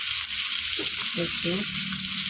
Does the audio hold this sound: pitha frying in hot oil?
yes